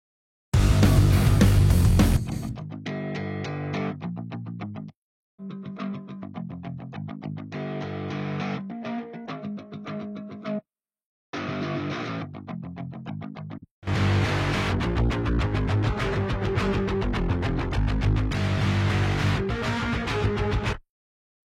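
Electric guitar strummed in short bursts through a series of built-in amp tones, moving from clean to heavily distorted, with brief silent gaps between passages.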